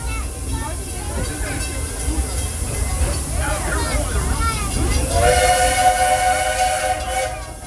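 The Walt Disney World Railroad train at Magic Kingdom rumbles steadily along the tracks with a continuous low roar, while a voice talks over the ride and a whistle-like tone rises near the end.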